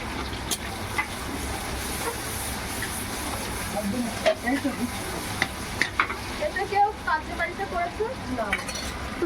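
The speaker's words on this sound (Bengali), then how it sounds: "দেখো পেঁয়াজ কুচি চলে গেল ভাজা হচ্ছে এখন পেঁয়াজ" Chopped onions fry in hot oil for mutton curry, giving a soft continuous sizzle with occasional clicks and scrapes of stirring, moderately close and fairly quiet throughout.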